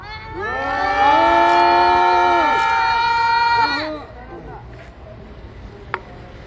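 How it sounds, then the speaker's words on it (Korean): A crowd at a press conference outside the Gwangju District Prosecutors' Office raises a loud, sustained rally shout in unison, held for about three seconds before breaking off and leaving quieter outdoor background. "여기에 참석하신 분들의 힘찬 함성으로 시작하도록 하겠습니다"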